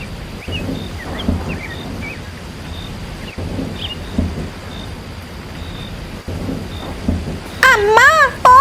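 Steady heavy rain with rumbling thunder in a cartoon scene, a continuous downpour wash broken by a few low rolls, with a short burst of chirping near the end.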